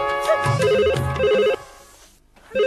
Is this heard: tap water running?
no